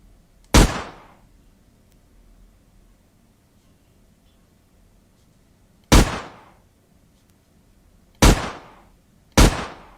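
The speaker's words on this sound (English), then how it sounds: "we can hear the gunshot sound as well." Gunshot sound effects for a game under development: four sharp, loud bangs, one alone and then three more spaced a few seconds apart, each with a short fading tail over quiet background.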